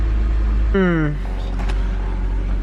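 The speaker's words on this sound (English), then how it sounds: "Went up in the RPMs. Now it's dropping." A BMW E91 wagon engine running with a heavy low rumble; a whining tone sweeps downward as the revs fall, and a voice talks over it.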